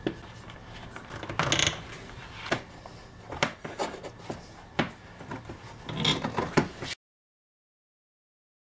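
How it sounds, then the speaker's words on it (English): Wooden pieces are set on a stack of book pages and clamped down, producing scattered close knocks, rubbing scrapes and a few metallic clicks before silence. "I'm just gonna clamp it"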